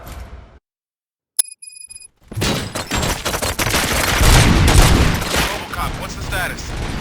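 Gunfire in the RoboCop: Rogue City video game: after a brief quiet and a bright electronic chime, loud rapid bursts of shots and booms erupt and continue densely to the end.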